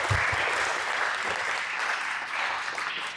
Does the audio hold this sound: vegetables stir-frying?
no